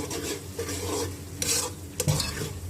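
Turmeric, red chili powder and salt get stirred into fried onions in a pan, with soft scraping strokes and a low sizzle and a couple of sharp spoon knocks, near and alone.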